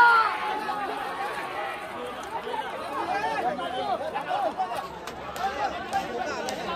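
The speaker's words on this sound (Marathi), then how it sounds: "रास गर्दी." Dense crowd chatter at an outdoor bullock cart race ground, a steady hubbub of many voices near and far with no single voice standing out.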